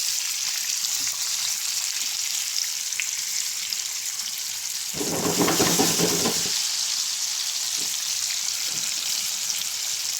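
Fish frying in a pan after being cleaned, a steady loud sizzle running throughout, with a brief burst of louder crackling and spattering around the middle before it settles back to an even hiss.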